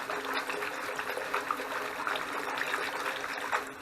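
Water is swished around by hand in a sink with a small dose of wool wash, a soft continuous sloshing and trickling with gentle splashes, close and fairly quiet.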